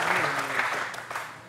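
Studio audience applauding on a Tunisian television show, a dense steady wash of clapping at moderate loudness, continuous for the short moment without any voices over it.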